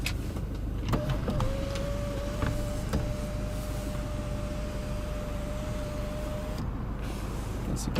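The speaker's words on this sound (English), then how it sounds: "Microphone, hands-free, and your power moonroof controls." Power moonroof on a 2015 Toyota Land Cruiser Prado motoring open inside the cabin, a steady electric motor whine running for about six seconds after a soft click, over low interior rumble.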